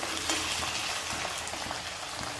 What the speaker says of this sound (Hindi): देखिए आलू हमारे अच्छी तरीके से फ्राई हो रहे हैं।